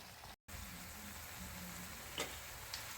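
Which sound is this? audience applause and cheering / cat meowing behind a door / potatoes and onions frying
potatoes and onions frying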